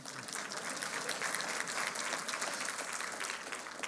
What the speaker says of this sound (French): applaudissons, on va évacuer l'applaudissement